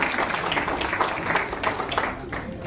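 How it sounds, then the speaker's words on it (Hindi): Loud, dense audience applause bursts out for a man named Kunal at a felicitation event for a bank officers' association, sustained clapping from a crowd over a few seconds. "कुणाल जी के लिए जोरदार तालियां लेडीज एंड जेंटलमैन"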